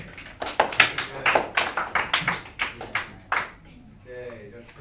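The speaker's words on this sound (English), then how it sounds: "Applause for Tyler." A classroom claps for a student, several hands beating in uneven bursts that rise and fade, with a voice heard faintly near the end as the clapping dies out.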